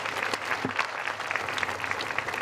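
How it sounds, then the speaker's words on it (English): An audience at a ribbon cutting for the Geraldine E. King Women's Resource Center gives a dense, continuous round of applause, many hands clapping together throughout. "So I'd like to give those who really did that work and that day a round of applause."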